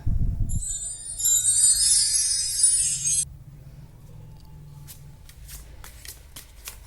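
Tarot cards are shuffled by hand close up, a brisk riffling flutter lasting a couple of seconds, followed by a few soft taps and card clicks against a quiet background.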